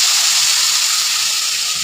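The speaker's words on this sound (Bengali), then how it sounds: "এবার আঁচটা আমি জোরে করে দিয়ে পেস্টটা দিয়ে দেবো।" Ground green chilli, cumin and ginger paste hits a hot pan over high heat and hisses loudly, a dense, steady sizzle close by with no pauses.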